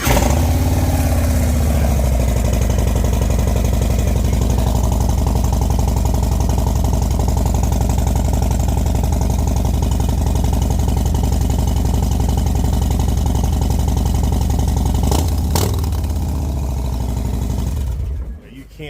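Motorcycle fitted with a Bassani exhaust, running with a steady, loud, rattling engine drone that holds for most of the stretch before dropping off near the end.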